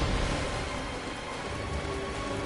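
Rain attack from a boss in the video game Bloodborne: a dense, steady rain-like hiss and patter fills the whole stretch at even loudness, with no talk.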